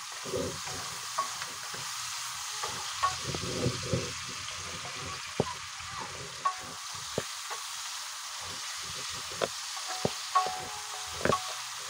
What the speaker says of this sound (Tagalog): Haluin lang natin ng haluin hanggat mahilot lang